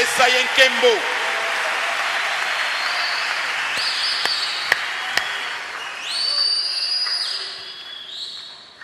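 A church congregation claps and cheers in praise of the Lord, a steady wash of applause with a voice carrying over it and fading toward the end.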